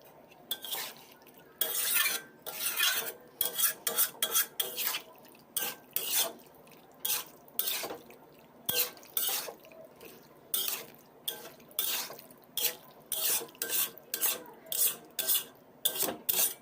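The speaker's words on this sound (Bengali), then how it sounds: "কচু শাক দিয়ে ভালো মতন নাড়াচাড়া করে দেব" Boiled taro leaves are stirred in an oiled pan, giving a steady run of close scraping and wet rasping strokes with soft clinks, repeating roughly every half second with no talk.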